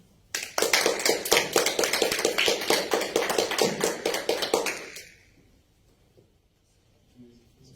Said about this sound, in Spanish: démosle un fuerte aplauso al doctor Eder